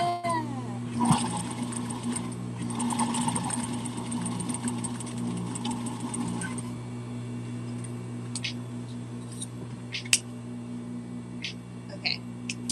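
Sewing machine top stitching a fabric docker hat, a steady mechanical whir with a few short bursts and pauses, fairly quiet, with a person talking now and then.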